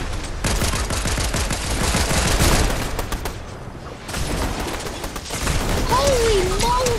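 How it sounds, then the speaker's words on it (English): Rapid gunfire in the Fortnite video game, dense loud bursts of shots nearly continuous for several seconds with a brief lull, then more firing alongside a short rising tone. "somebody shooting"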